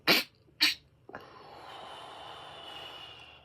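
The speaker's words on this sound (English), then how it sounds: "Got me coughing like that." Two sharp, close coughs in quick succession, followed by a soft hissing background.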